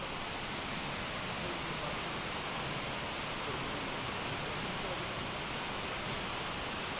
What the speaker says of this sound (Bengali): তো আমরা এখন সামনে ছোট ওয়াটারফলটার সামনে চলে এসেছি